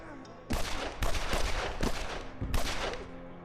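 Gunfire in the video game Evil Genius, World Domination mod: repeated loud bursts of shots in clustered volleys with short gaps, close and dense, with a low game hum underneath.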